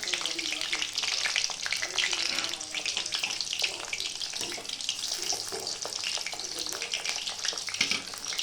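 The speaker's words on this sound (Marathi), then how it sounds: "तेल आपलं गरम झालं आहे. त्याच्यात थोडे थोडे फ्रेंच फ्राईज टाकू. कमी आचेवर तळून घेऊ." French fries dropped a few at a time into hot oil on low heat, giving a steady, dense sizzle and crackle that runs the whole time, close up, with faint splashy bubbling and no talking.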